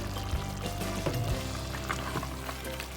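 Fish sauce is poured into a pot of cooking chicken for pininyahang manok sa gata, a soft liquid trickle heard close up over the steady bubbling and simmering of the pot.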